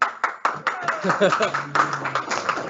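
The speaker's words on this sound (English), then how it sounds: "clapping the loudest because he's a Stanley House member" A junior school prizegiving audience claps for the winning house, with sharp, uneven hand claps sounding close by, mixed with voices and a brief whistle-like tone.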